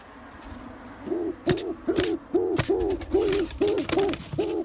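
Fantail pigeon cooing repeatedly inside a breeding box, a close, steady series of rounded coos in a regular rhythm with a few sharp clicks and knocks in between.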